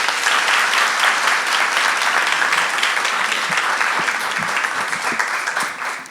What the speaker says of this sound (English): Let me hear you clap one more time.